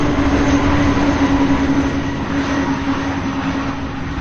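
An MD-11 airliner comes in to land at Louisville International Airport in gusty wind. A loud, rushing engine roar with a steady droning tone holds, then slowly fades a little as it passes.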